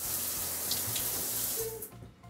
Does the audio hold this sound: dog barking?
no